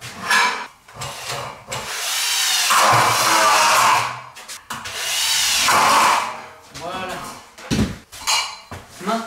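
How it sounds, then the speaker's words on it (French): A power drill bores a hole into a brick wall during plasterboard partition work, two long loud grinding bursts with short starts and stops, close up. "Donc je vais faire un trou là, et venir me prendre directement dans la brique."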